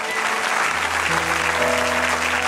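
A church congregation cheers and applauds in a steady, dense wash of clapping and voices that fills the room from start to finish, with a sustained organ or keyboard tone beneath it.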